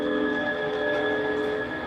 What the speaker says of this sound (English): Hear that brake squealing?